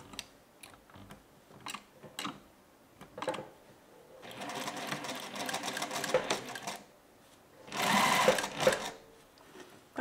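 A sewing machine stitching a collar on thin fabric, close up: short mechanical bursts of rapid ticking stitches at first, then two longer whirring runs with pauses and handling noises between them.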